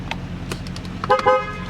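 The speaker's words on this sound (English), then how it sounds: "Honk works." Horn of a 2015 Dodge Charger Police Pursuit with a 5.7 HEMI V8 and AWD, a short close honk with a few brief tonal bursts over a low idling hum, no talking.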